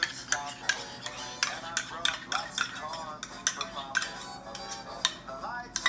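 Naan dough of flour, water and yogurt stirred with a spatula or wooden spoon, giving a steady run of soft knocks and scrapes against the bowl, moderately close, with faint talk underneath.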